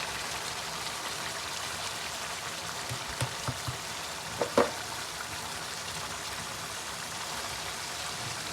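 Lamb and cauliflower sizzling in hot oil in a pot, a steady close hiss like light rain with a few brief clinks and scrapes in the middle.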